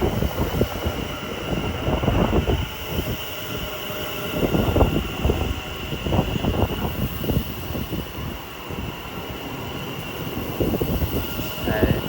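A London Northwestern Railway passenger train passes through Watford Junction on the West Coast Main Line, rumbling and clattering steadily with rhythmic wheel beats, fairly loud and close, with a constant high electrical whine over it.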